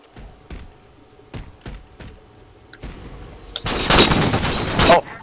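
Sniper rifle gunshots in Halo 4, a few sharp cracks spaced out over the first seconds, then a loud dense burst of firing and impacts near the end, close and punchy.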